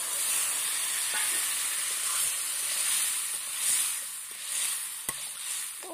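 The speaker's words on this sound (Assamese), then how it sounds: "এতিয়া মই মছলাখিনি পানীখিনি দিম" Water poured into spices frying in a pan for egg curry, a steady loud sizzle and steam hiss with a few faint clinks and taps.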